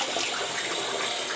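Water runs steadily from a tap as a face is rinsed during a shave, a close, continuous hissing splash with no talking.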